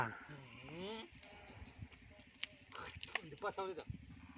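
A flock of sheep out grazing near Nagenahalli lets out a wavering bleat, followed by fainter bleats and rustling at a distance, with people talking nearby.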